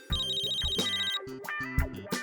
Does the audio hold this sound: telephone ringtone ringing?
yes